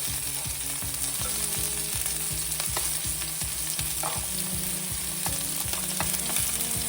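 Garlic frying in a pan for chile de árbol salsa, a steady loud sizzle with a rhythmic mechanical clicking or scraping running underneath, no talking.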